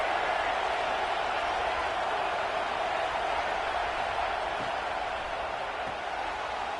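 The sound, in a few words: stadium crowd roaring at football game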